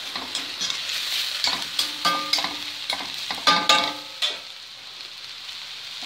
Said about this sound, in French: les petits légumes et les nouilles ont été poêlées